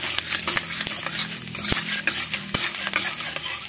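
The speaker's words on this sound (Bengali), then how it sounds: "ডালটাকে এই তেলে দিয়ে ভেজে নেব" Chana dal fries in hot mustard oil in a pan, a busy sizzle broken by quick, close scraping strokes of a spoon stirring the lentils, with occasional sharp clinks against the pan.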